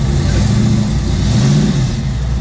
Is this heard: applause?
no